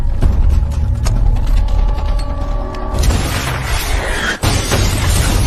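A film explosion rips through a house as a loud booming blast, preceded by mechanical clicking and rattling, then a burst of roaring noise with a sharp crack and rumbling debris afterward.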